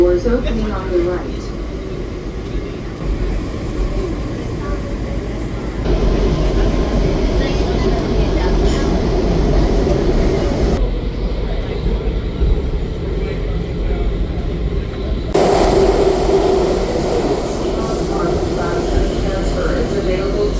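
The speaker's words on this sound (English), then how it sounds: "our train was finally pulling away from Franconia Springfield on the way to Largo" A DC Metro Blue Line subway train pulls away from Franconia-Springfield toward Largo, with a loud, steady rumble and roar that shifts in tone as it rides, and a voice is heard over the noise.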